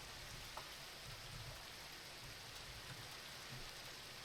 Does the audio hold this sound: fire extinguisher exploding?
no